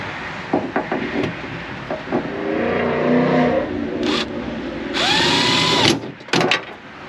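Power tool tightening the four nuts on a 2012 GMC Terrain tailgate, with several short whirring bursts and a longer rising spin, loud and close, separated by brief pauses and mechanical clatter.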